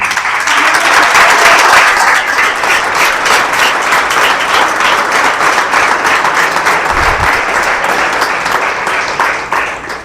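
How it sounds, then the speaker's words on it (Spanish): A church congregation applauds loudly and steadily for about ten seconds, a dense continuous wash of clapping that tapers slightly near the end, with no talk over it. "De un aplauso al Señor por eso."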